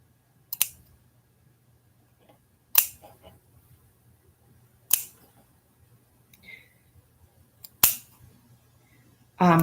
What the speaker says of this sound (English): you never want to open your scissors really wide, just tiny, tiny little snips